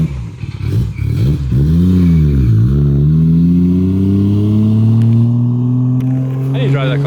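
750WHP Toyota JZX100 Chaser engine, a loud close rev that dips and then climbs in a long sustained pull, with speech heard briefly at the start.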